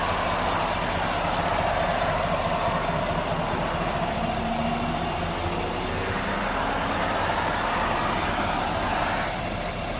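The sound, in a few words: V8 pickup truck engine idling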